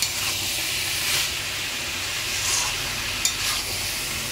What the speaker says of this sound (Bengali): আরেকবার ভালো করে ব্যাপারটাকে মিক্স করে নিতে হবে। এটাই চলছে এখন, মিক্সিং চলছে এখন।